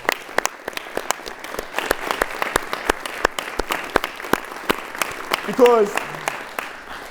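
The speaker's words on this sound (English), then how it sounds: "Can we give them a round of applause?" An audience at the Maryland Male Students of Color Summit applauds mentors with dense, sustained clapping full of sharp individual claps, while a voice speaks briefly near the end.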